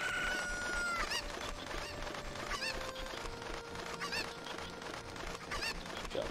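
Chickens in the Zelda Ocarina of Time video game, with a few clucks and a rooster-like crow rising over a busy game soundtrack, steady and fairly loud throughout.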